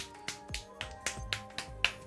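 Clapping from another room, heard as a steady series of about eight distinct claps at an even rhythm, fairly faint and roomy over a low background, with no talking.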